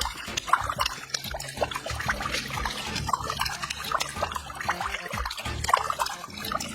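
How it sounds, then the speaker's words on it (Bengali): Tap left running at a bathroom basin, water pouring and trickling steadily with a broad splashing wash and small drips throughout, moderately close and continuous, no talk. "এই তো জলের সাউন্ড আসছে"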